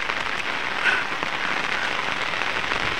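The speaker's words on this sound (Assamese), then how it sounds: "গোটেই বৰষুণ দি আছে" Rain patters steadily on a nearby surface, a bright, even hiss with scattered sharper drops and no voices.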